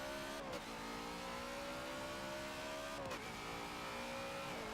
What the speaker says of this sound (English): So this is my first time drifting it, and quite frankly, it's horrendous. This thing just is really heavy.